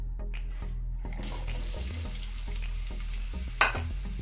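Onions frying in a pan for beef jollof rice, a low steady sizzle with scattered stirring scrapes and a sharp clatter near the end, heard close with no talking.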